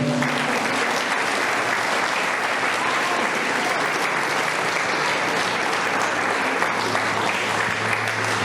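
A church congregation at a sixtieth-anniversary service claps to praise the Lord, a dense, steady wall of applause that stays loud and unbroken from start to finish.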